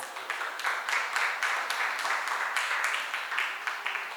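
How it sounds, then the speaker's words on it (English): An audience at a book awards ceremony applauding steadily, a dense wash of many hands clapping that holds at an even level throughout. "Can I have a huge round of applause?"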